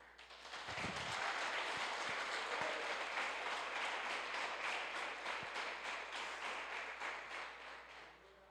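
Church congregation applauding at a Portuguese-language sermon, a broad wash of many hands clapping that swells quickly and holds steady for several seconds, heard from a distance with a few louder taps near the start.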